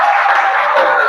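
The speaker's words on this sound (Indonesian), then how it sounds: "tepuk tangan untuk Zaki." A short burst of applause from a group, dense and steady clapping heard up close.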